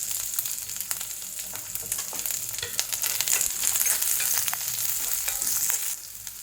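Garlic, onion and chili fry in a hot pan for moringa leaf curry, giving a steady close sizzle with bright crackle and occasional stirring scrapes, with no talking.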